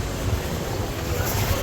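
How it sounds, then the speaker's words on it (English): Ocean waves wash against the shore at a Barcelona beach, a continuous low rumbling surge mixed with wind noise on the microphone, steady and fairly close, with no speech. "Just hearing the sound of the waves is so satisfying."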